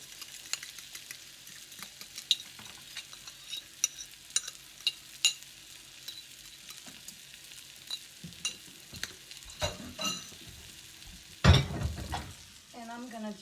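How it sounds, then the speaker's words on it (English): Food being stirred in a breakfast omelet pan over medium-low heat, with soft sizzling and frying crackle under scattered utensil scrapes and clinks, ending in a few louder pan knocks. "I'm just stirring this"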